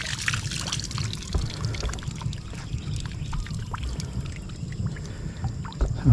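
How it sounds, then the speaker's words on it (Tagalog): Water gushes and splashes from a hand-pumped deep well in uneven bursts, a fairly faint, close sloshing and trickling with a low churning undertone. "okay naman yung poso. May tubig."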